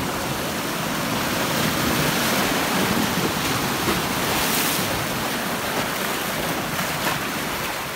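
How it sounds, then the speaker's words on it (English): Ocean waves break steadily on a Sicilian beach, a continuous loud wash of surf with gusty wind buffeting the microphone throughout, no voices. "Waves on waves."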